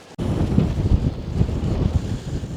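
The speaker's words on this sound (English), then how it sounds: "Okay, so there's a bit of wind up here." Wind buffeting a microphone on a hilltop, a loud continuous low rumble with gusty surges that starts abruptly and persists throughout.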